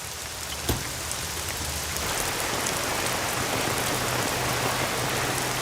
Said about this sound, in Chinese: 下那么大雨还去？